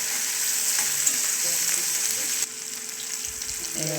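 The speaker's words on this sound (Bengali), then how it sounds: "এবার পেঁয়াজটা একটু নাড়াচাড়া করবো।" Onions frying in oil in a pan while being stirred, a steady close sizzle with scraping strokes that drops off abruptly partway through, then quieter sizzling with a few clanks near the end.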